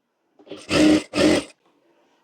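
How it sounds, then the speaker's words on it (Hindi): A sewing machine stitching the sleeve of a princess-cut blouse, two short close whirring runs of the needle back to back, then quiet. "यहाँ पर सिलाई कर लेनी है"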